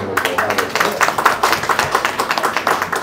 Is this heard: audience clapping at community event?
yes